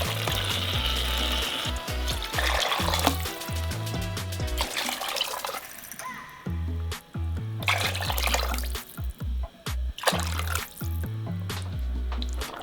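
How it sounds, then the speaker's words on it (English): Water is poured into a pot of tomato-based soup, a steady splashing and trickling that sits beneath louder rhythmic background music throughout. "we're going to add 7 cups of water to this"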